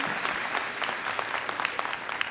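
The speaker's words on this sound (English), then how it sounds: "May we have a round of applause for my escort, Zach Rizzo." Audience applause fills a hall at a university style show, a dense, continuous wash of many hands clapping at steady loudness for a couple of seconds.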